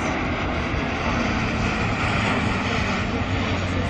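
A large military aircraft roars past at an air show over Sofia, a loud, steady rushing engine blast that fills the whole moment without a break.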